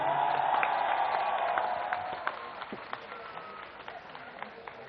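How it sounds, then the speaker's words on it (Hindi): Large crowd at an Anna Hazare protest at Jantar Mantar applauding loudly, dense clapping and a few cheers that fade slowly into scattered claps over several seconds, with a voice faintly heard over it. "अपने लिए जोरदार तालियां बजा दो।"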